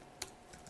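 Faint, brief keystrokes on a computer keyboard, one sharp tap followed by a couple of softer clicks in a quiet room.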